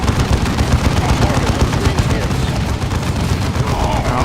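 Continuous heavy battle fire in the strategy game Dawn of War 2, a tactical squad exchanging shots. Steady loud bursts of automatic gunfire and booms run throughout, with a voice talking over them.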